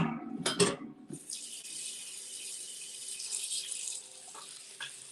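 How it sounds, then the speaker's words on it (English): Tap water runs steadily into a pot at a kitchen sink, a continuous hiss after a brief clatter of handling, with a few small knocks near the end. "I'm going to fill this with water."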